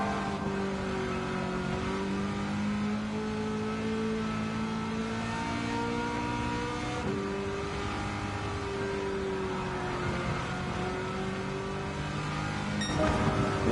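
A race car engine in Gran Turismo 7, a steady high-pitched drone that shifts pitch as the car accelerates and changes gear, with a brief swell of another engine near the end.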